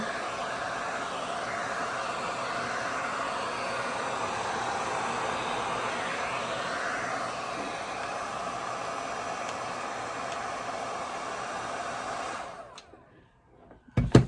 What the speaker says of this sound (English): You could just use a heat gun and create a pattern.